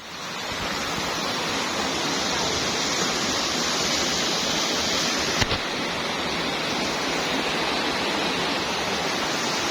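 Rushing river water makes a steady, full hiss that stays constant and fairly loud from start to finish, with no voices.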